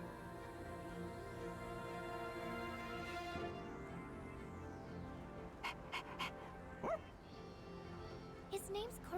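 Koromaru, a dog in the video game Persona 3 Reload, gives a few short yips and a bark-like whimper against a steady background music bed, with the sounds spaced apart near the end.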